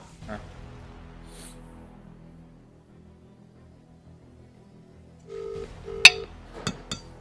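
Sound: telephone being dialed

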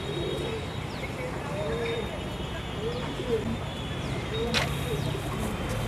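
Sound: female wild pigeon cooing

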